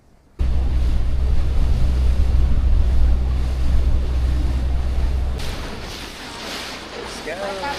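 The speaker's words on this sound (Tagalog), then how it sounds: "Umaandar na ang ating ferry." A ferry is underway at sea, with loud, steady wind buffeting and rushing waves that ease off partway through, leaving a softer wash of water.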